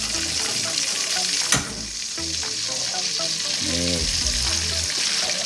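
Salted fish, just flipped, fries on low heat in a pan with a steady bright sizzle, broken by a few brief clatters and scraping stirs.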